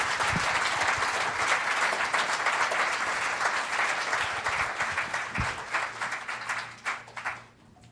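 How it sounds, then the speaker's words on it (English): A conference audience applauds steadily for a speaker named Randy, dense clapping filling the room before thinning and tapering off near the end. "Let's give Randy another round of applause"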